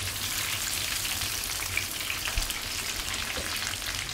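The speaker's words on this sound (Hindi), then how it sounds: "अब मैं इसमें 2 टमाटर ऐड करूँगी, जो कि मैंने इस तरह राउंड शेप में काटे हुए हैं" Onions and round-cut tomato slices frying in a pan for restaurant-style moong dal, giving a steady, close, dense sizzle like light rain that runs throughout, with no talking.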